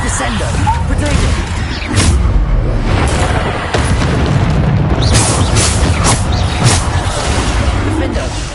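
Repeated Bombarda spell blasts in the Hogwarts Legacy video game, dense booming explosions and crackling impacts layered over continuous combat noise and other spell effects, loud and busy throughout.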